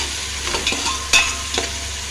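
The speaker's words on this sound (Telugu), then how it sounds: "ఒకసారి కలుపుకుందాము." Salt is stirred into coconut milk rice in a pot, with a few soft scraping and clinking strokes of a spoon over a steady low hum, close and moderately loud, with no speech.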